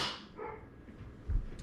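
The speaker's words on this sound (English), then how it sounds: "I'm sorry for my dogs, they're going crazy." Dogs bark indoors in a brief burst: a couple of quick yips, then a deeper bark at the end, heard fairly close over a quiet room.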